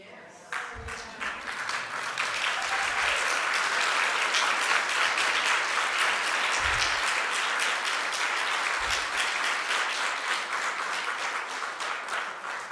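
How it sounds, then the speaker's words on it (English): A church congregation stands and applauds a young speech competition winner with sustained, loud, dense clapping that builds quickly and carries on steadily, with a few low thumps beneath it. "I want to have you stand up and turn around and applaud Damien"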